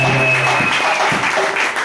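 A church congregation breaks into applause, a dense, continuous clapping that fills the room and stays loud for the whole stretch.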